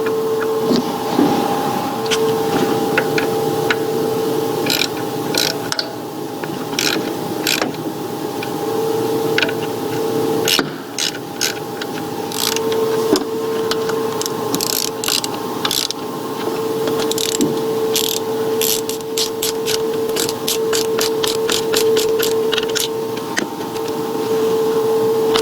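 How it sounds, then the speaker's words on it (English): A small ratchet tightens the camshaft nuts on a BMW engine, giving a series of quick, light metallic clicks in short bursts over a steady background hum, close by and with no talking. "I'm using a small ratchet, so I can't place a lot of force on tightening the nuts down"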